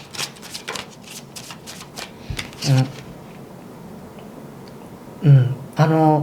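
Tarot cards are shuffled by hand in quick papery riffles and slides, close and crisp, with a few short bursts of speech breaking in between.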